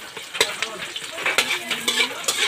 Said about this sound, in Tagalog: Pa golden brown sana to ang onion. Golden brown dahil golden brown ni kasi yung oil eh.